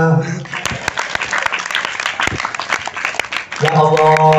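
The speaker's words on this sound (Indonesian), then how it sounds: "Tepuk tangan." Audience clapping at a Maulid Nabi school event, a busy burst of hand claps under a loud voice, with sustained tones at the beginning and end.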